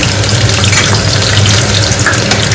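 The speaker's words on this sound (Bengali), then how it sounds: "ছোট ছোট আলুগুলো তা ফ্রিজে ছিল দেখে আমি যে গোল গোল করে ভাজা করে নিই" Small round-cut potatoes fry in hot oil with a loud, steady, close sizzle that fills the whole short stretch, with no talking.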